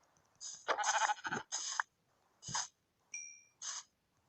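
A Minecraft sheep gives several short, bright bleating calls spaced irregularly, with a brief chiming tone between them, heard fairly close with no talking.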